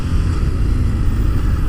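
A 2017 Harley-Davidson Street Rod 750 motorcycle engine runs close and loud with a steady, deep, rumbling drone as the rider opens the throttle. No one speaks.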